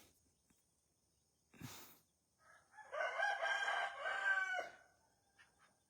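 A rooster lets out a long, clear crow close by, after a short flutter or squawk, with quiet pauses before and after.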